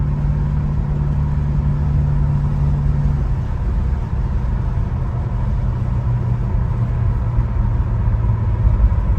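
A 1967 Chevrolet Chevelle SS 396 engine hums steadily at a low, even pitch while driving, with a constant rumble and no voices.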